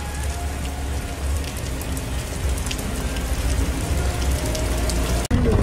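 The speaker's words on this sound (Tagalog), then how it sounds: "Umuulan dyan." Steady heavy rain patters on a hard surface, a dense continuous hiss with no speech, broken by a brief knock near the end.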